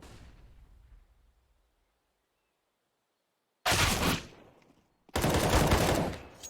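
Counter-Strike gunfire on the Inferno map during a professional esports match, two dense loud bursts of automatic fire after a long near-silent gap, cutting off sharply.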